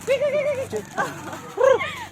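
A dog barks at Umbrella Rock in Agno, Pangasinan, with a few close, tonal yelping barks in two short bursts; voices are present around them.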